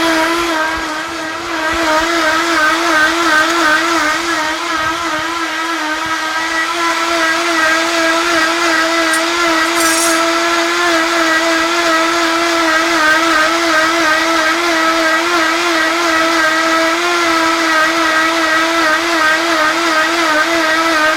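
A kitchen appliance chops ingredients for a sweet potato casserole, its motor droning loud and steady and close for the whole stretch, with no pauses or voices.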